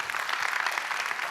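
Audience applause for a team at a corporate company event, a steady wash of many hands clapping at moderate volume throughout, no voices over it.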